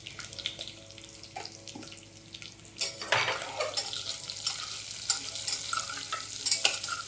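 Onion pieces frying in oil while being stirred for paneer biryani, with a soft sizzle and intermittent scraping and clinking of a spoon against the pan, fairly quiet and close.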